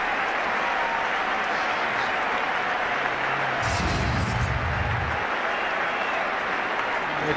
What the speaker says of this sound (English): The crowd will rise on the feet.